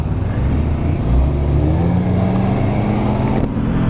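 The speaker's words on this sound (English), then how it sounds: "The exhaust doesn't sound necessarily amazing here on city street speeds" Engine and exhaust note of a 2023 Honda SCL 500 motorcycle riding at city street speed, a steady close droning rumble with shifting engine pitch throughout, no talking.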